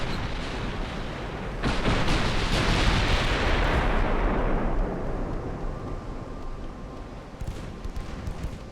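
A naval gun salvo fires in Ultimate Admiral: Dreadnoughts, a loud, heavy roaring blast that swells and then fades into a long rumbling tail, with a few fainter thuds near the end.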